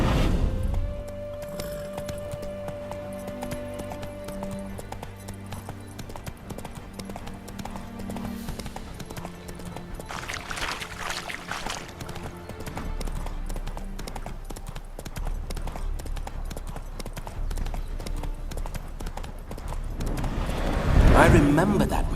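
Roach the horse in The Witcher 3 trots with a steady clip-clop of hooves on ground. Game music plays underneath and a brief neigh or snort sounds near the end.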